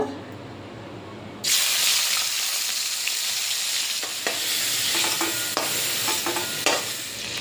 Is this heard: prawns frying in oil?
yes